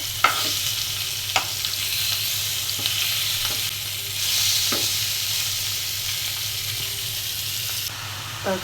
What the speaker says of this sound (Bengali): বেশি কড়া করে ভাজবো না হালকা করেই ভাজবো